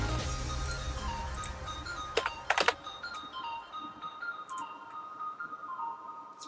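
Keystrokes on a computer keyboard while someone plays a Neopets puzzle game, soft clicks with a sharp cluster in the middle over steady background tones.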